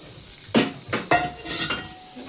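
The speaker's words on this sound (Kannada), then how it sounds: "ಈಗ ಇಷ್ಟು ನೀರನ್ನು ಹಾಕ್ಕೊಂಡಿದ್ದೀವಿ" Water splashes into a hot pan of fully fried garlic and curry leaves, giving a few quick sizzling bursts and clinks close by, with no one speaking.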